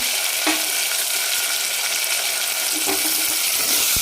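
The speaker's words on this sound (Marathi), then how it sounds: "हे जे हिरवी मिरची आहे ती थोडेसे चटका लागेपर्यंत आपण याला परतून घेणार आहे" Green chillies sautéing in a pan, a steady bright sizzle and hiss with occasional sharper spits and light stirring scrapes, loud and close with no talking.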